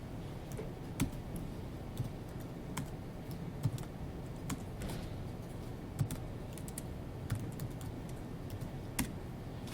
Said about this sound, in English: You can start typing a file or folder name and then hit tab